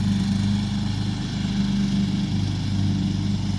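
A lawnmower engine runs steadily and loud up close, a constant droning hum with a low, throbbing buzz and no pauses.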